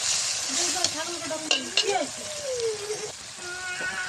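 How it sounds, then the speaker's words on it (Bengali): Spice masala being fried down and stirred in a pan, a soft sizzle with a few clinks and scrapes, partly under a voice talking. "মশলাটা খুব কষানো হয়েছে"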